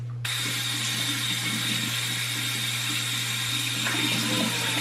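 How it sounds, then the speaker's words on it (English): Tap water runs steadily and fairly loud while someone washes their face at a sink in a bathroom, a constant hiss with faint splashing and no pauses. "So I'm gonna wash my face."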